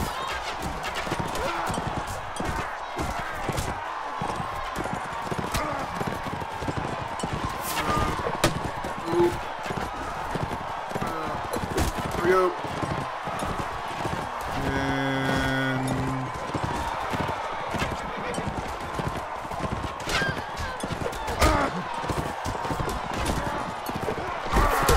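Horse hooves clip-clop in the Mount and Blade video game, a steady galloping patter running under a dense battle mix with talk over it.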